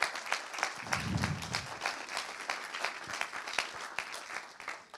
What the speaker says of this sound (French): Il est important, applaudissons-les.